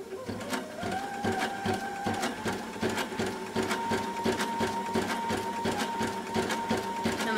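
A Sashiko sewing machine stitches a quilt in a fast, steady mechanical rhythm of repeated needle strokes, loud and close, with a faint whirring tone underneath.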